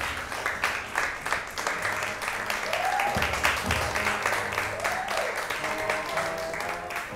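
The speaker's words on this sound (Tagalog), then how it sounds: "Oh, palakpakan naman kayo." Continuous crowd applause with rapid overlapping claps, moderately loud, while voices and cheers rise over it.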